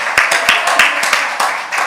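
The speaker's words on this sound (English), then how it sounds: "Let's clap them up for their participation." Audience clapping for participants at a youth huddle gathering, a brief round of uneven, fairly close hand claps from a small group, crisp and loud with no talk over it.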